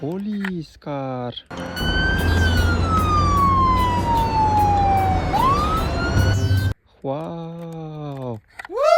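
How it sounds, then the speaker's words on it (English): Toy police car siren wails in a loud, sweeping tone that slowly falls and then jumps back up, with excited children's voices before and after it. "Police car!"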